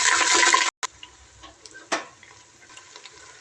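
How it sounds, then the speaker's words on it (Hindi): Water is poured into a pot of browned onions, a brief hissing sizzle that cuts off, followed by a few quieter sputters and a short second splash. "तो जी प्याज मेरा ब्राउन हो चुका है, तो इसके अंदर मैं थोड़ा सा पानी ऐड कर देती हूँ।"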